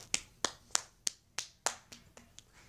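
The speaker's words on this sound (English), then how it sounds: "Give a round of applause." A single person claps or snaps about nine times in an even rhythm, each hit sharp and close, fading slightly toward the end, with no talking.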